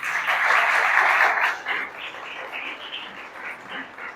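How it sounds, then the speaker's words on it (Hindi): A church congregation claps together for Jesus during worship, a dense burst of hand claps that swells, then thins and fades to scattered faint clapping. "जरा यीशु के लिए तालियां बजा दें।"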